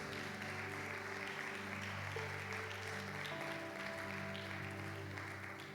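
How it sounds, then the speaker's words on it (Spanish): A church congregation applauds during a Spanish-language sermon, steady broadband clapping sustained throughout at moderate level, with a sustained musical tone, likely organ or keyboard, underneath. "Dale un aplauso al Señor, aleluya"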